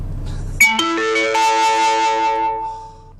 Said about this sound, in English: Did you hear that? You know what that means? That means my phone needs a charge already.